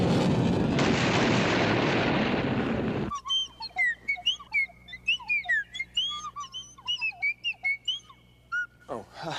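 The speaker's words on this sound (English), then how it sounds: "we would hear it in the form of a loud sonic boom" A jet airplane's sonic boom comes as a loud, rumbling blast lasting a few seconds, then cuts off abruptly and is followed by a series of high, sliding whistle notes.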